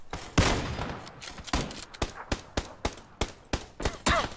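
Video game gunfire crackles in rapid bursts, a dense volley at first and then a steady string of sharp, evenly spaced shots, loud and close, with no voices over it.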